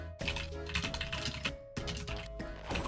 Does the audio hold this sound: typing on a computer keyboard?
yes